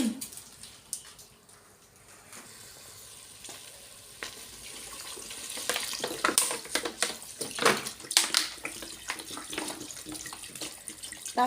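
Cooking water is poured into a sink, splashing and trickling, starting quietly and growing louder and more uneven toward the end, with no voices.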